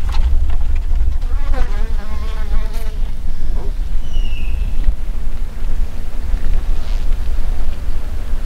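Bees buzz around a beehive outdoors, making a dense, steady drone close by with individual insects whining past now and then.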